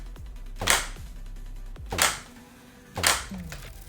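Three sharp gunshots ring out about a second apart as targets are shot in a timed Neon Requiem video game mini game. Each is a crisp, close crack with a short ringing tail over a low background hum.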